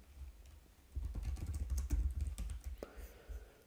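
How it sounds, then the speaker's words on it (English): Typing on a computer keyboard: a quick run of close, light key clicks that starts after a quiet second, with a soft murmur underneath, then trails off into faint clatter near the end. "Let me just type in corporate news."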